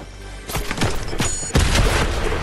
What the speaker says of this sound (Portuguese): Tem alguém atirando em mim?